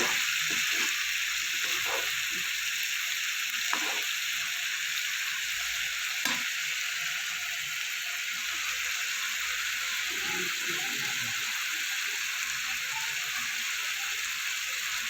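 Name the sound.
spice paste frying in oil for fish curry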